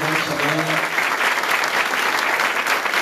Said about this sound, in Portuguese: Dê uma salva de palmas para eles.